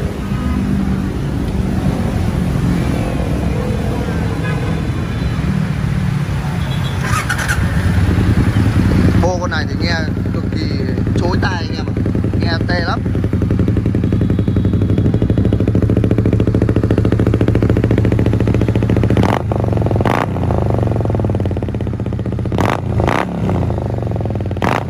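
A Suzuki Intruder 400 cruiser motorcycle fires up and settles into a loud, steady idle close by, its low engine rumble continuous for over twenty seconds with a few sharp mechanical clicks and knocks near the end.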